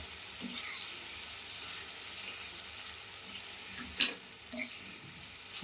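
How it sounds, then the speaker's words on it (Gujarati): Tomatoes with coriander-cumin masala being stirred in a pan for Kathiyawadi-style Girnari khichdi, a soft continuous sizzle with faint scraping stirs and a couple of louder clinks near the end. "પછી આપણે આ રીતે ચલાવતા રહીશું"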